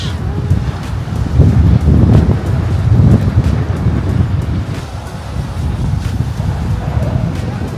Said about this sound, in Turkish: Burada da rüzgar var.